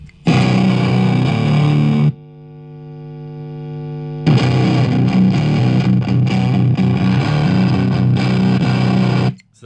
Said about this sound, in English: So I'll just show you what it sounded like just with the boost